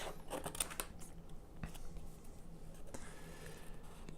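Scissors snip a freehand circle out of material, with close, quiet, irregular cuts spread through a soft background hiss.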